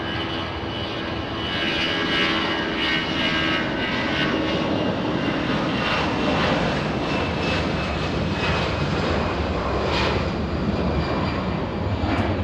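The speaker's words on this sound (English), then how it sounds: "Listen to this, A319s. They have not disappointed the entire day of plane spotting. They sound incredible." Airbus A319 jet airliner engines at LAX airport, a loud, steady roaring jet whine with a sustained rumble and high tonal hum, heard alone and close for the whole stretch.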